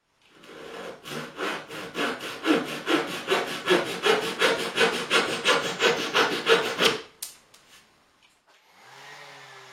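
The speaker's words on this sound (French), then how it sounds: "quand on coupe, bien, on peut couper flush et ça n'endommage pas le côté de la planche qu'on coupe" A hand saw cutting a wood plank flush for a kitchen table, about twenty rhythmic rasping back-and-forth strokes close up that stop abruptly, followed by a faint hum.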